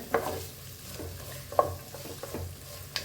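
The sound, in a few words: onions sautéing in a pan for squid roast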